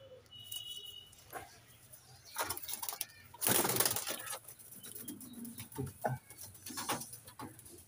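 Madras pigeons in a loft give soft repeated coos and a few chirps, with bursts of wing flapping mid-way, close by and moderately loud over a quiet background.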